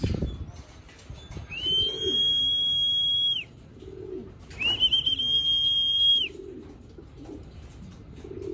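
Pigeons coo in soft low bursts, while two long, steady high whistles sound clearly in the foreground and a person speaks briefly in the background.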